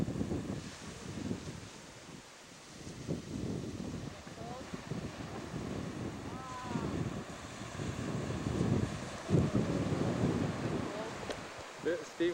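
Waves and wind at Port New, a bay in Donegal, Ireland, roll in as a steady blustery wash with gusting wind buffeting the microphone, while people talk nearby throughout.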